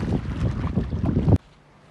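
Onshore wind buffets the microphone with a rough, steady rumble on the shore during a fishing trip, then cuts off abruptly.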